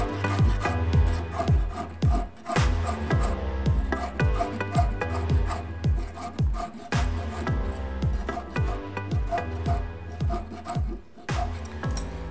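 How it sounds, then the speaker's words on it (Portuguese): Hand filing along the inside of a metal ring plate for a domed ring, a steady rasping rub repeated in quick, even strokes, close and alone with no talk. "agora eu vou limar por dentro para criar uma espessura nesta placa"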